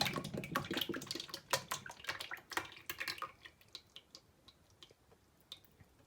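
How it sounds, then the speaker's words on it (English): Liquid dessert ingredient for a refrigerator dessert pours into a mixing bowl, a close dense patter of drips that thins out into sparse, quieter single drops as the pour ends. "And I'm just going to pour it right into the bowl."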